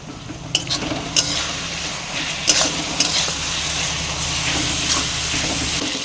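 Onion masala with turmeric and red chili powder fries in oil for Bihari chicken curry, a continuous close sizzle punctuated by several sharp scraping stirs and clinks of the spatula against the pan.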